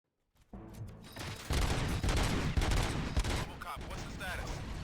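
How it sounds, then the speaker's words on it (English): Sustained gunfire erupts in the RoboCop Rogue City video game, a loud dense fusillade of rapid shots and impacts that carries on without a break, with faint voices mixed into the din. "Gunshots?"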